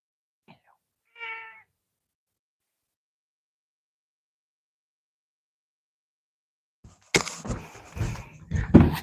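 A house cat gives a short, faint meow, then a clearer one, followed by quiet and later loud handling noises and clatter.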